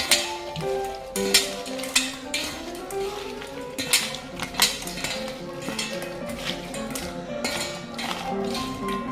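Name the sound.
stirring food in a pan while cooking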